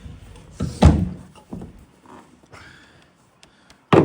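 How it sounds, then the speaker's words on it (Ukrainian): The rear doors of a 2020 VW Crafter van swing fully open, giving a few heavy thunks and metallic clunks spread out over several seconds, close by and loud, with a final sharp knock. "двері відчиняються повністю"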